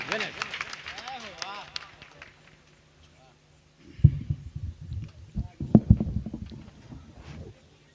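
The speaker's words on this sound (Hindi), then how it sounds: "एक बार जोरदार तालियां भाई" After someone speaks, the audience at a Hindi kavi sammelan poetry gathering breaks into applause: a burst of clapping lasting several seconds that swells, peaks and then tapers off.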